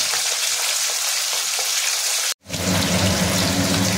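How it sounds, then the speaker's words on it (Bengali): Parshe fish fry lightly in a pan with a steady, dense sizzle and crackle, cut by a brief silent gap before the hiss resumes with fuller low bubbling. "এবারে আমরা মাছটাকে খুব হালকা করে ভেজে নেব"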